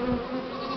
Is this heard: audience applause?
no